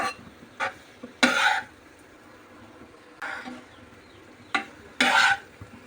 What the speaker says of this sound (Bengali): এখন শুধু নুডলসটা রান্না করতেছি